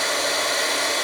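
Heat embossing gun blowing a steady stream of hot air over metallic embossing powder, a continuous close, loud breathy rush with no break.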